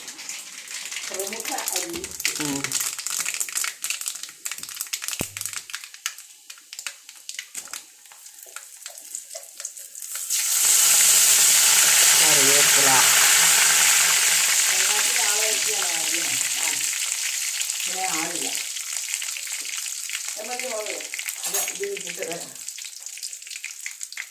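Chopped garlic, ginger and green chili hit hot oil in a pan for a Kerala Onam puli inji, a loud, sustained sizzle that flares up and slowly settles, with someone talking over it before and after.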